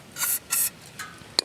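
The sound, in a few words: spraying carburetor cleaner into a generator carburetor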